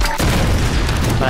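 A grenade blast in the Tomb Raider video game erupts as a loud, sustained booming roar that fills the whole moment after a brief quieter start, with a voice speaking over it.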